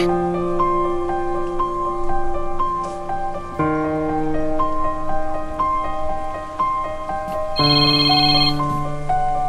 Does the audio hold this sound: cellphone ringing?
yes